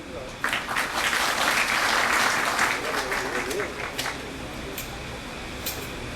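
An audience at a public discussion forum claps to welcome a speaker. A burst of applause rises quickly, holds for a couple of seconds, then thins to a few scattered claps over a continuous room murmur.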